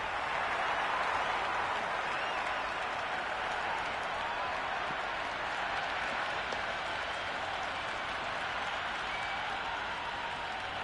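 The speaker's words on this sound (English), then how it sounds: "The crowd are loving every minute of this match." Steady, dense crowd roar with applause from a stadium crowd cheering a boundary in the cricket video game Cricket 26, loud and continuous throughout with no talk over it.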